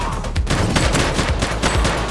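Rapid bursts of gunfire in a police shooter game, The Precinct, crack out repeatedly across a dense, loud exchange with no talking over it.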